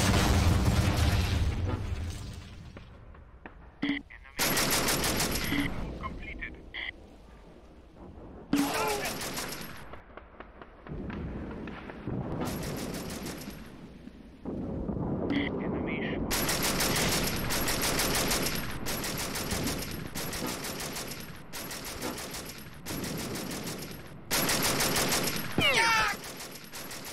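Battlefield gunfire at Port En Bessin: repeated bursts of rapid automatic fire and scattered shots, some close and loud, with brief lulls between bursts and a voice speaking at times.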